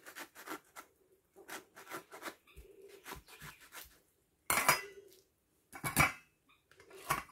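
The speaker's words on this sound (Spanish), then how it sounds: "Vamos a seguir exprimiendo así los 3." Halved lemons pressed and twisted on a juicer, a close series of rubbing, squelching grinds in short bursts separated by brief pauses, with one louder harsh squeeze near the end.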